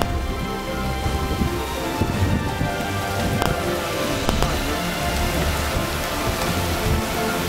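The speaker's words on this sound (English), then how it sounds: "Rain curtains wrapping rapidly around this monstrous tornado." Heavy rain pours steadily and loudly near a large tornado in Harper County, Kansas, a dense continuous roar of drops with brief crackles, and no talking heard.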